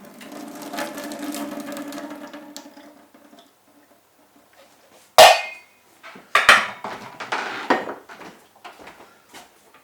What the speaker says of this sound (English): So I'm just going to drain the peas.